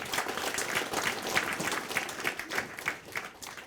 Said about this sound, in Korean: 우리 큰 박수 한번 주시죠.